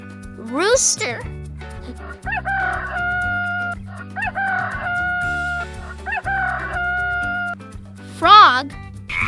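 A rooster crowing loudly at the start and again near the end, with a cheerful musical backing playing steadily between the two crows.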